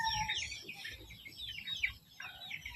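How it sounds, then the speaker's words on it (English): Several chickens cluck and squawk on a farm, including a black cockerel, with overlapping soft calls and a low rumbling background, moderately close and fairly quiet, with no talking. "this fella can go up for sale as well, the black cockerel"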